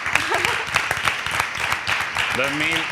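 Clapping from a small group at an ice hockey club interview, sharp irregular hand claps mixed with talking and a few voices calling out over them.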